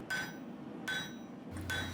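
Hard hammer blows on a steel bar being drawn out into a thin rectangle while forging a crook knife: three sharp, ringing metallic strikes spaced evenly and close, with a low hum under the final blow.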